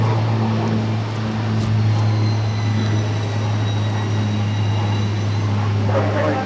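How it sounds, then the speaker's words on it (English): Pilatus PC-12 turboprop at Boston Logan airport, a steady loud engine drone with a strong low hum and a faint high whine, continuous and close throughout. "It's Pilatus PC-12."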